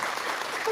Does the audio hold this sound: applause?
yes